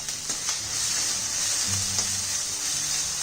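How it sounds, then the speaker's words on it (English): Egg chilli masala sautéing on high flame, a bright continuous sizzle with a few sharp pops and soft stirring scrapes, close and steady. "We need to literally saute this on high flame, and this is till the time the raw smell kind of goes away."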